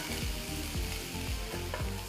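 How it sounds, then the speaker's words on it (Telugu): Onions, ginger, green chillies and curry leaves frying in a pan, a steady loud sizzle with rhythmic stirring scrapes about every half second. "ఉల్లిపాయల్ని 2-3 నిమిషాలు వేస్తే సరిపోతుంది"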